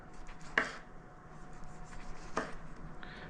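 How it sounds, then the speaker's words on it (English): Kitchen knife slicing a fresh tomato into thin slices for a baking dish, two crisp cuts spaced about two seconds apart, close and quiet against a faint room hum. "I'm going to take one of these tomatoes, and I'm going to take some thin slices of tomato"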